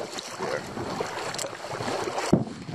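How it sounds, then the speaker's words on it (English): A packraft under sail on a lake, heard as a steady wash of wind buffeting the microphone with soft water sounds beneath and one sharper knock near the end. "Alright, we are sailing."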